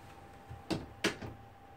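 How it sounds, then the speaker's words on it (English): A door is opened in a home workshop setting, heard as two distinct, fairly sharp knocks or clunks a moment apart over a low steady room hum, with softer creaks around them. "Door open"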